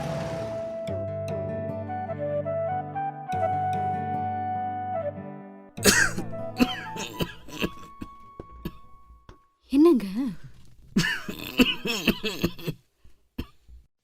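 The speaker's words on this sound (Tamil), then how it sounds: "என்னங்க இப்படி இருமுறீங்க" A man coughs several times in short harsh bursts over quiet background music, and a voice speaks between the coughs.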